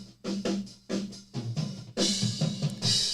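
A drum kit captured through Behringer SL75C far room microphones, with roomy kick and snare hits in a steady groove and cymbals washing in loudly for the second half.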